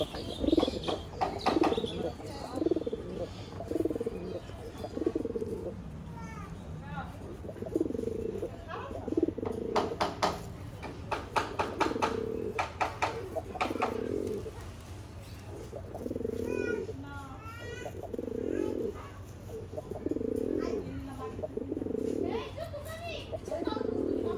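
Red pigeons coo in repeated soft rolling phrases close by, interleaved with someone talking and faint chirps in the background.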